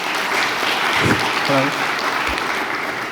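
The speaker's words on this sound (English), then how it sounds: "let's make also a big applause for him" Workshop audience clapping for a speaker, a broad wash of applause across the whole stretch while a voice speaks briefly over it.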